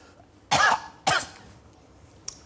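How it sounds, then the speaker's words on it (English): A man gives two sharp, loud coughs in quick succession, close and clear, followed by a brief faint click in the quiet. "that's him coughing"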